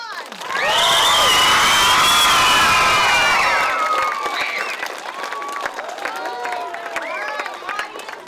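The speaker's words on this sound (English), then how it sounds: "let's give Bethel Park a cheer" A school celebration audience erupts in loud cheering, with high children's shouts and whoops over clapping, peaking early and then settling into scattered lively yells and claps.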